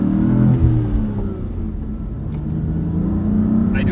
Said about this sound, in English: Gotta be careful with the throttle there and take off.